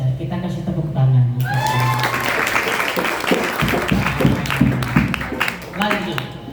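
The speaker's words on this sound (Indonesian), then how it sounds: "Kita kasih tepuk tangan." Students and guests at a Ramadan celebration at an Islamic boarding school in Cibiru clap together in a loud, fairly close burst of applause, mixed with voices and some background music.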